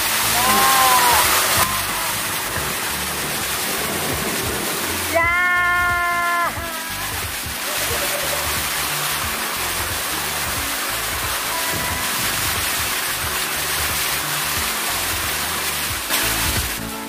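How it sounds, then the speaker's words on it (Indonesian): A waterfall at the end of a water park lazy river, heard as a steady, loud broadband rush of falling water that runs the whole length, with brief voices rising over it now and then. "Air terjun ini adalah tanda bahwa permainan Lazy River akan segera berakhir."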